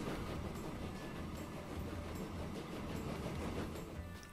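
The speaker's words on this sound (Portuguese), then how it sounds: "Aí nosso primeiro trem de óleo." Oil train running in Transport Fever, the European map in free mode, giving a steady rumbling rail roll with faint rhythmic clatter, continuous and moderately loud throughout, with no voices.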